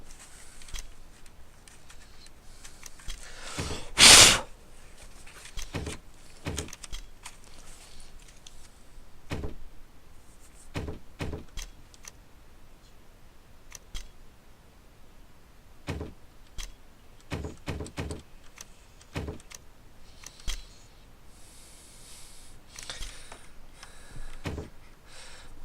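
Keycaps on the F-key row of a computer keyboard are pried off during cleaning, giving scattered, sharp plastic clicks and snaps at irregular intervals. One louder snap comes early, over a quiet room with no talking.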